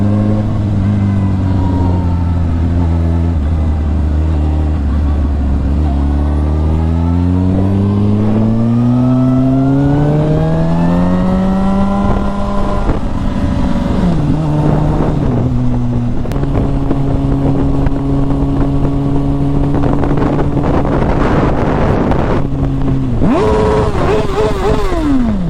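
A motorcycle engine revs loudly up and down while being ridden, its pitch climbing through the gears, dipping and rising again. The engine sounds close, with steady wind rush over the microphone the whole time.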